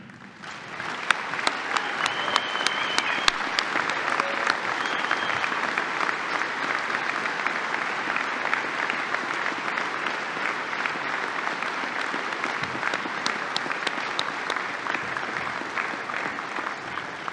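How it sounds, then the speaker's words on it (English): Sustained applause from a large assembly crowd at a police awards ceremony for the Target Police Officers of the Year, steady and loud with sharp individual claps standing out, no talking. "Let's have a round of applause for our Target Police Officers of the Year."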